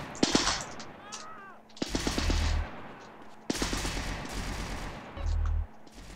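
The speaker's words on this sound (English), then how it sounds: "People are shooting." Bursts of rapid gunfire from people shooting in GTA San Andreas, loud and close, with sharp repeated shots in several volleys and heavy low thumps between them, and no talk.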